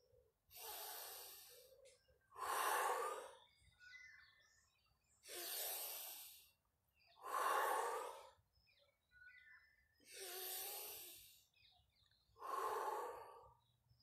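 Slow deep breathing exercise during an outdoor morning wake-up routine in the sun: six long, loud, close inhales and exhales alternate evenly, with faint birdsong in the background.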